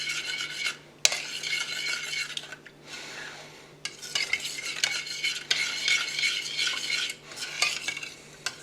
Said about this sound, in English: we're now going to stir this and warm it up until it's just barely warm to the touch.